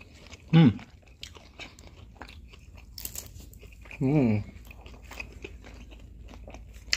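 A crunchy green onion pancake is bitten and chewed close to the microphone, two loud crisp crunches spaced apart with quieter chewing and faint speech between.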